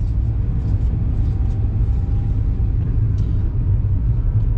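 Road traffic on the Kolhapur–Ratnagiri highway makes a steady, heavy low rumble of passing cars and larger vehicles, continuous and loud throughout without any voices.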